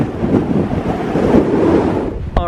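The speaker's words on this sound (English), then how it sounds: "of course it's super windy" Strong wind on a mountain summit in a Utah national park buffets the microphone in a steady, loud rumbling roar with gusts rising and falling, and no voices.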